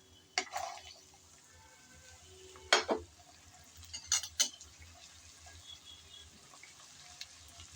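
Neem leaf and eggplant curry, cooked with salt and turmeric, stirred in a pan: a few sharp scrapes and clatters of a utensil against the pan over a faint, low sizzle.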